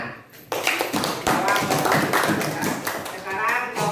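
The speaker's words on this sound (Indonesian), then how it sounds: "tepuk tangan" A classroom of students breaks into applause, a dense burst of overlapping claps that starts abruptly and holds steady for a few seconds, close and fairly loud with faint voices mixed in.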